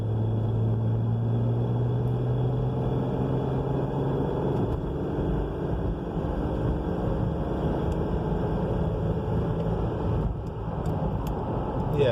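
A Mercedes ML engine under full-throttle kickdown drones continuously from inside the cabin, a steady low rumble whose pitch lifts slightly midway and then holds, fairly loud with no voices.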